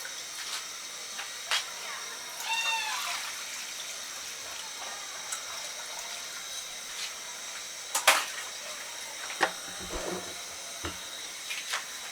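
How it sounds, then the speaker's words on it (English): Water is poured into a cooking pot on a kitchen stove, heard as a quiet, continuous trickling hiss broken by small clinks and splashes, with faint background noise throughout. "we're going to add water."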